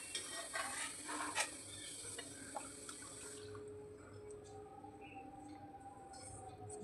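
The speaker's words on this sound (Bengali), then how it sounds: "হাত দিয়ে ভালো করে চিপে চিপে জলটা ঝরিয়ে নেবে" Blanched spinach is squeezed by hand to wring out the water, giving soft wet squishing and trickling sounds that stay faint and close, with a steady low background hiss and no talking.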